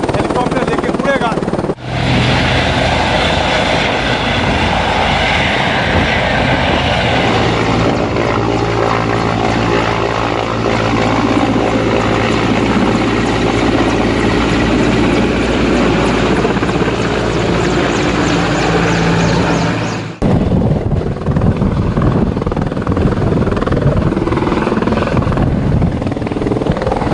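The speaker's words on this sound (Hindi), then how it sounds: "अब इनको हेलीकॉप्टर लेके उड़ेगा।" Helicopter preparing to lift off on a rescue flight to a glacier-hit area where a bridge has collapsed, its rotor and engine roaring loud and close for the whole stretch, with a brief dip in the noise partway through.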